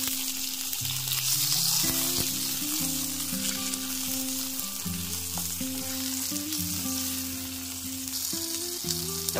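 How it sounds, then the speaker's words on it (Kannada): Tomatoes fry in oil in a pan for a crab sambar, producing a steady close sizzle with occasional stirring scrapes and soft melodic tones underneath. "ಮತ್ತೆ ಇದೇ ಬಾಣಲೆಗೆ ಸ್ವಲ್ಪ ಎಣ್ಣೆ ಹಾಕೊಂಡು ನಾನಿಲ್ಲಿ ಟೊಮೊಟೊ ಸೇರಿಸ್ಕೊತಾ ಇದ್ದೀನಿ."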